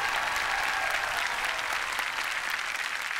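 Crowd of studio spectators on a Marathi TV comedy program giving sustained applause for visiting movie guests, thick uniform clapping that stays level from start to finish.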